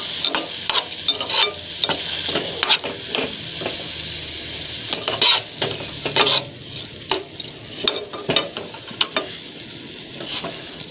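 Finely chopped green chillies frying with mashed tomatoes in a pan, a steady close sizzle broken by repeated scraping stirs and light clinks of a spoon against the metal.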